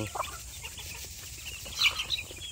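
Twelve chicks and their hens on a farm make soft clucks and scattered high peeps, moderately close, over a low background murmur.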